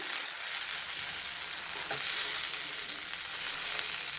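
Tomato puree frying in oil in a pan for an aloo matar masala curry, a steady, even sizzle that holds at one level throughout, close by and with no voices over it.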